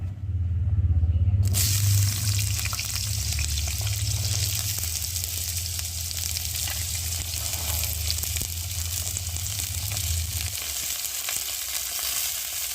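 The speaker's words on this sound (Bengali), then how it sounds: "এবার আমি সবজিগুলো দিয়ে ভালো করে ভেজে নেব।" Vegetables hit hot white oil in a heated wok for fried rice. After a brief low rumble a loud, dense sizzle bursts out and keeps going, with faint stirring scrapes underneath.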